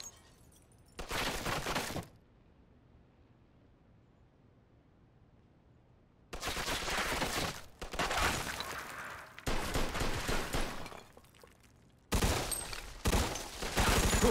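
Bursts of gunfire in Mafia 2: Definitive Edition, each a loud, dense volley of rapid shots lasting about a second; the first comes early, then a long quiet gap before several back-to-back volleys and a final pair near the end.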